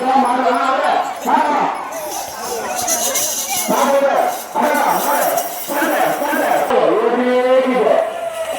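Bulls charging through a crowded village bull-running festival in Tamil Nadu, with a dense roar of shouting onlookers, lowing cattle and clattering hooves, loud and close throughout with voices calling over it.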